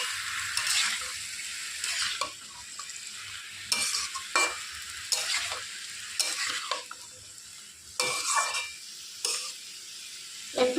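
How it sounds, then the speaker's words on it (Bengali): Green chili, ginger and poppy seed paste stirred in hot oil in a pan, with a continuous sizzle broken by regular spatula scrapes every second or so, close and clear. "এবার এটাকে দিয়ে এভাবে নাড়াচাড়া করে নেব।"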